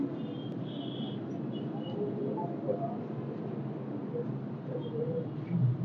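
Several pigeons kept by a Rawalpindi pigeon breeder coo softly in a low, continuous murmur, with faint bird calls over a steady background.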